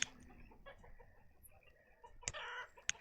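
Chickens cluck in the village-building video game Banished: soft, scattered clucks over a quiet background, broken by a couple of sharp, brief squawks near the end.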